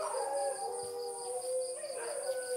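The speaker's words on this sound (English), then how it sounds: "Dog." A dog howls in long, wavering, tonal cries that run continuously and rise and fall in pitch, heard at moderate distance with no talking.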